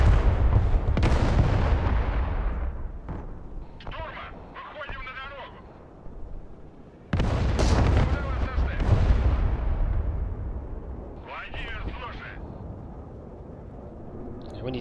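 Paladin self-propelled artillery firing in the Broken Arrow war game, heavy booming blasts with rumbling tails repeating over several seconds, loud and close, with someone talking over them.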